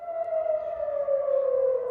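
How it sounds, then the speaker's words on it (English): A rocket warning siren wails in Tel Aviv, its steady tone slowly sliding lower, loud and continuous with no voices over it. "As Benjamin Netanyahu met families this evening, sirens cleared the memorial site."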